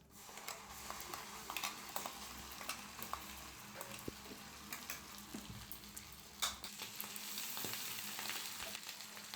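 Ground spice paste hits hot butter and oil in a pan, giving a steady close sizzle and crackle with occasional stirring clicks and scrapes, no talking.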